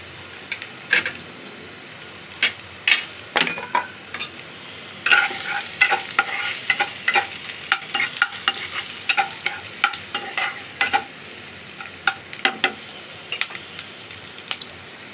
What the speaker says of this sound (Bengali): পেঁয়াজ আমার হালকা ভাজা হয়ে এসছে